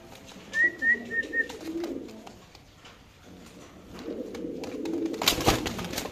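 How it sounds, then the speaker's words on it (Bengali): A dewlap pigeon cooing in a loft, several soft low throaty coos in a rhythmic series, then a longer rumbling call, with faint rustling and a sharp knock nearby. "দর্শক দেখেন ডিউলিপের ডাকটা দেখেন"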